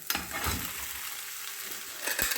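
Chicken that was boiled and reduced beforehand goes into a hot pan and fries, giving a steady close sizzle with stirring clatter at the start and end.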